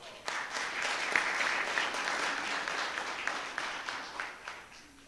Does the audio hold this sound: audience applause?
yes